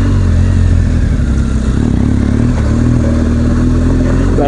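A BMW R1200GS Adventure motorcycle ridden over a rough, broken road, its engine running loud and close with a steady low throb and rattling clatter from the bumps.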